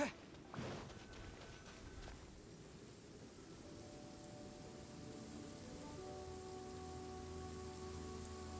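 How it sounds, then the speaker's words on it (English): Rain falling in the Genshin Impact video game, a soft continuous patter under light game sounds and faint music tones, with a couple of brief thuds near the start. "Raining."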